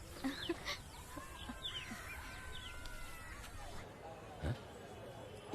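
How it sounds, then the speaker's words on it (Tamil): Farmyard chickens cluck in a short, uneven series of calls with a rooster-like tone, heard over steady background noise in a Tamil film scene, with voices present. "கோழிகளா"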